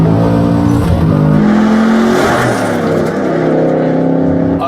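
A Ford Mustang Shelby GT350R drives hard on a racetrack, its engine note loud and continuous with rising and falling revs across shifts, heard close from onboard.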